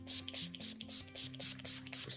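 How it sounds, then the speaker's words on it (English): Setting spray mists from a makeup bottle in rapid short puffs, about ten quick hisses in a row, close and fairly soft, with a faint hum beneath. "setting spray"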